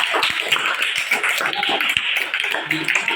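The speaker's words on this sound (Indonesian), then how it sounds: "tepuk tangan juga untuk kelompok A" A classroom of students applauds a presenting student group, brisk close clapping mixed with taps and some background voices.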